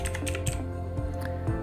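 Close computer keyboard taps enter a value into a quad-wrap mesh tool during 3D reverse-engineering work, giving a few distinct clicks over a steady, humming background.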